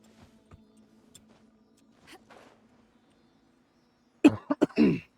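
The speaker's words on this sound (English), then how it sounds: "my cough, bro" A person coughs in a short, harsh burst of three or four coughs near the end, close to the mic, after several seconds of near silence with faint small movements.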